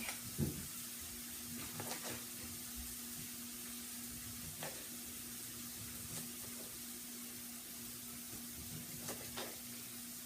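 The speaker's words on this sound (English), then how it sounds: "Now that my veggies are sauteing" Vegetables sautéing in a pan for spicy jambalaya, a constant soft sizzle broken by a few light scrapes and taps of a spoon, with a faint steady hum underneath.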